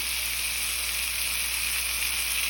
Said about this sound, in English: we're going to fry these up until they're not pink in the center anymore